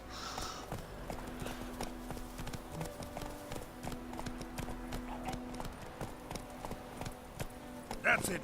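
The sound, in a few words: horse galloping, Roach in The Witcher 3 video game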